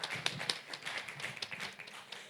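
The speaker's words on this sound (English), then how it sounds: "Give yourselves a round of applause." A small group gives itself a round of applause, quick, scattered hand claps, fairly quiet and close, with no talking over them.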